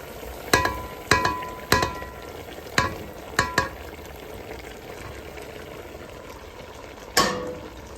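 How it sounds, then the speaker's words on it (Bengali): Vegetables are tempered in hot oil with a low sizzle beneath a series of sharp metal clanks from stirring, spaced irregularly with a pause before a final knock. "তো এখন ভেজিটেবলটাকে বাগার দিয়ে দিব"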